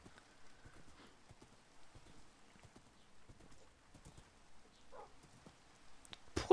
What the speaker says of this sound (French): Pourquoi il est tout noir, mon cheval?